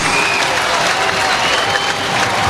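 Basketball crowd in an arena at a close NBL game, Nuggets versus Hawks, roaring and applauding steadily and loudly throughout, a dense sustained wash of cheering with no clear gaps.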